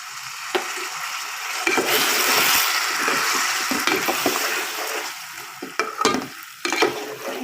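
Amra pickle with white vinegar bubbles and sizzles in a pan, a steady close crackling hiss broken by repeated scrapes and knocks of a spoon as it is stirred, with no voices.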